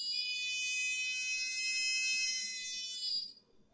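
A car reversing alarm built from a proximity sensor gives a loud, steady high-pitched electronic tone that holds for about three seconds, then cuts off abruptly.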